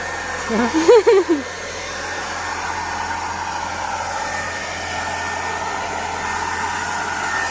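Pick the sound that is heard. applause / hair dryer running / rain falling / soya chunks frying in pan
hair dryer running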